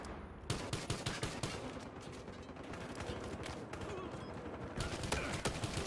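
Rapid automatic gunfire in a Battlefield Hardline match, a loud, near stream of sharp repeated shots with brief pauses, layered over busy battle ambience and game voices.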